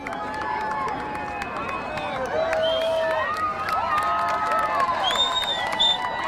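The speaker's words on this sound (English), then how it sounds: "The pro-Trump side's running across, and now they come back. They're cheering." Pro-Trump protesters at a Minnesota street protest run across and then back, with a crowd whooping and shouting in cheers over dense footsteps and background murmur, moderately close.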